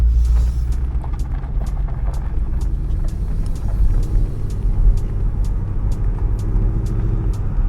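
A Ford Mustang GT V8 convertible with a six-speed automatic gearbox pulls away gently, its engine a low, steady rumble heard from inside with faint ticking clicks over it.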